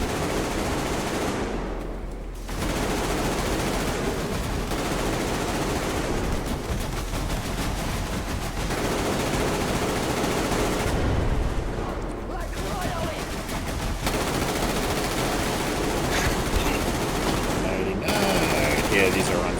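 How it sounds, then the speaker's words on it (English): Heavy gunfire in the post-apocalyptic shooter Metro Exodus, a very large gun going off amid sustained automatic bursts and volleys that run nearly continuously, loud and close, with brief lulls between salvos. "That's a very large gun going off."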